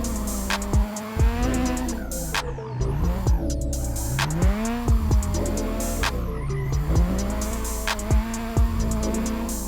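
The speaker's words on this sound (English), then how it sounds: "It drifts decently smooth for how small it is." A small drift kart's engine buzzes and revs up and down steadily while the kart slides through tight turns. The throbbing tone rises and falls in repeated waves and stays loud throughout.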